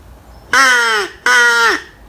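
A Haydel's crow call, a handheld game call, imitates a crow with two loud, harsh caws in quick succession, close and with nothing else heard.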